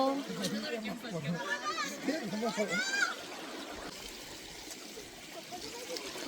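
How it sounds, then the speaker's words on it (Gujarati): A mountain stream flows at Saputara hill station with a soft, steady trickling rush. Lively voices talk over it at first; after a few seconds the water is heard almost alone. "કેટલું સરસ મજાનું ઝરણું છે"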